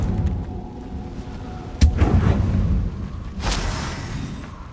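A Confringo fire spell explodes in Hogwarts Legacy with a sudden loud blast and rumbling tail, followed by a second burst a moment later amid steady game ambience.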